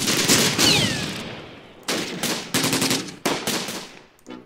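A British infantry squad's rifles and machine guns rattle out in Close Combat: Gateway to Caen, with sharp overlapping bursts and several separate volleys in quick succession, loud and near.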